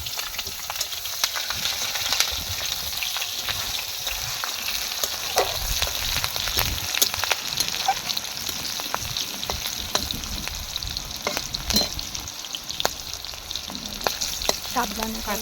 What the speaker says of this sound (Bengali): তো তেলের মধ্যে বন্ধুরা 5 ফোড়ন দিল। কাঁচা লঙ্কা রসুন।